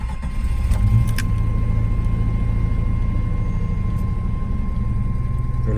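A 1988 Jeep Wagoneer XJ engine catches and settles into a steady, close idle, a loud continuous rumble with a faint whine running through it.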